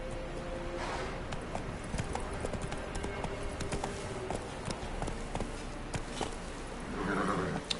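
Galloping horse hooves in The Witcher 3 beat a steady rapid clip-clop under dense game ambience and music, with a brief rider's voice near the end.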